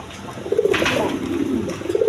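A pair of Lal Gorra colored pigeons coos close by, two or three soft throaty rolling calls in sequence over a faint background hiss, with no talking.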